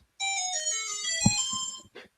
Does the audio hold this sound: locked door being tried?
no